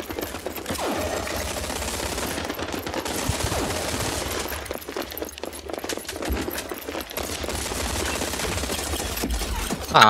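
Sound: gunfire in the video game Rogue Company

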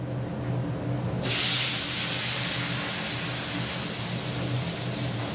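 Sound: pointed gourd added to hot pan, sizzling

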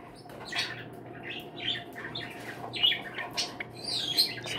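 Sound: Java sparrow calling and squawking

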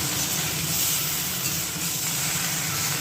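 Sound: spices frying in oil

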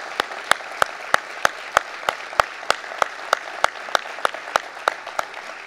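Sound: audience applause

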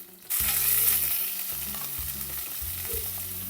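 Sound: sliced onion and green chillies frying in pan

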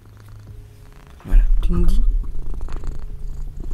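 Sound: cat purring

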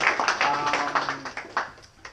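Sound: audience applause

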